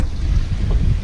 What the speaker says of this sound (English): It's very windy, so hopefully you can hear me okay.